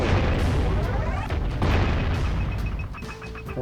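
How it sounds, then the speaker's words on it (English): Cannon fire in the Jak and Daxter video game: heavy booming blasts and rumbling impacts fill the scene, loud and close, with a voice talking over them. "Oh wow, there's a cannon."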